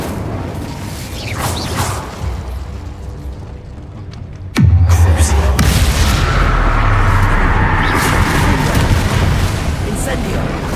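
A Bombarda explosion spell cast in Hogwarts Legacy: one sudden loud booming blast with a deep rumbling tail that keeps sounding under ongoing magical noise and a talking voice.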